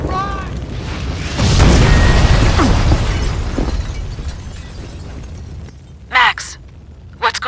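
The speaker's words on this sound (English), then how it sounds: "The building's blowing up." A building blowing up in the video game Max Payne 2: a loud, rumbling blast swells and roars with debris crashing, then fades to a low rumble before brief sharp bursts, with voices speaking over it.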